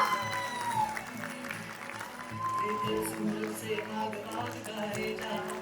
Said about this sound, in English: Give a huge round of applause for Swara.